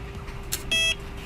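A Welock WiFi smart lock on a front door gives a quick high chirp followed by a longer, steady electronic beep over quiet room tone.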